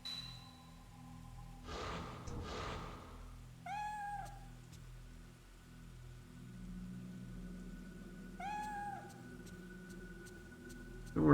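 A cat meows in the horror video game Fatal Frame III, with a few distinct plaintive calls spaced apart over a quiet ticking ambience and low noise.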